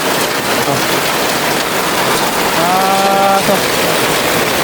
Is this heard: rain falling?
yes